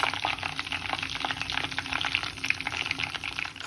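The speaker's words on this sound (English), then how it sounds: "So I'm going to fry the second one." Chicken cordon bleu sizzles and crackles steadily in a pan over medium heat, a continuous bubbling fry heard up close with no talking.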